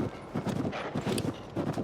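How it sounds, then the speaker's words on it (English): Rhythmic clip-clop of a golden horse's hooves trotting in Zelda: Tears of the Kingdom, a steady run of close, moderately loud beats with no talk over it. "A golden horse."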